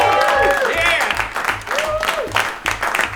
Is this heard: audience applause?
yes